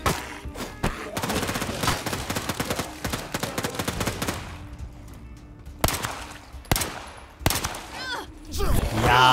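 Gunfire rattles through a zombie video game based on The Walking Dead, with dense rapid bursts at first, then sparser single shots and a final loud flurry, while players talk over it.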